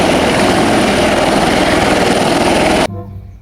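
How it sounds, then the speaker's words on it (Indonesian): A small toy helicopter buzzes loudly and steadily with a whirring rotor drone that cuts off abruptly near the end, leaving a faint residual hum. "Ini adalah helikopter"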